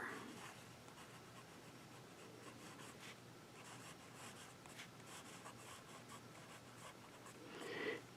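A Lamy AL-star fountain pen with a fine nib scratches faintly across paper in a steady, quiet stroke, with a slightly louder scrape near the end.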